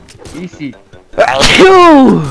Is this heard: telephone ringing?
no